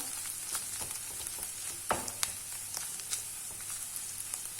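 Meat sizzling with tomato paste in a pan for alinazik kebab, a constant quiet frying hiss with scattered pops and one sharper clack of stirring, close and without talk.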